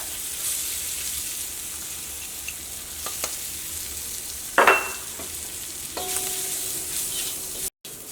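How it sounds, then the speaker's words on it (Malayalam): Grated coconut is stir-fried in a pan with a steady soft sizzle, broken by scraping stirs and a sharper clatter midway, with a brief dropout near the end. "ഈ തേങ്ങയും ഇതിൻ്റെ കൂടെ കിടന്നിട്ട് ഒന്ന് ചെറുതായിട്ടൊന്ന് മുരിഞ്ഞോട്ടെ"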